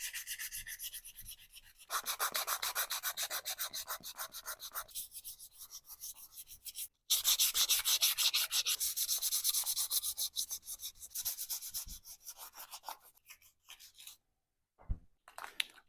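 Close, scratchy hand sanding of rust spots on the fender of a 1990 Harley Sportster, rapid back-and-forth strokes in long bursts with short pauses, fading into sparse scrapes near the end.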